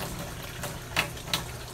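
Water flushing through the line of a GFO reactor on a saltwater aquarium, a low steady rushing flow with a few brief splashy spurts, quiet and close.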